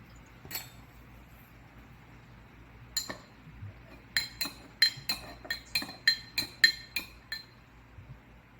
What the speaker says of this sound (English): put that into the glass and stir